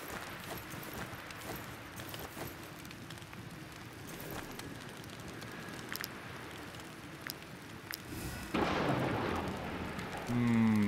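A thunder and lightning storm in the WarTales game: steady rain-like rumble throughout, then a louder crack and roll of thunder near the end, fairly close and loud.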